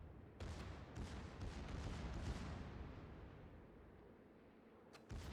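Warship main battery shells firing in World of Warships, a faint rumbling salvo of booms that swells and slowly fades, with a sharper blast near the end.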